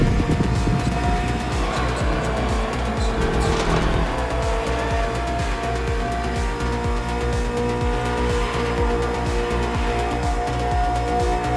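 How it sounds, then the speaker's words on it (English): BMW M Hybrid V8 endurance race car, built in 2023 for races like the 24 Hours of Le Mans, driven in The Crew Motorfest game; a loud, steady engine drone with occasional tire squeal, no talking. "Finally, the BMW M Hybrid V8. What a beast."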